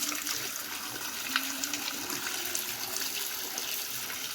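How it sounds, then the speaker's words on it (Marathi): Water flows steadily from a tree trunk, a soft continuous trickle and splash heard close by with no voices. "त्या झाडाच्या बुंद्यातून पाणी हा चालू आहे"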